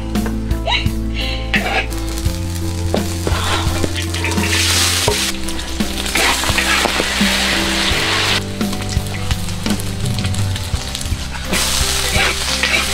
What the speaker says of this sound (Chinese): 然后煎一个鸡蛋， 吃个葱煎蛋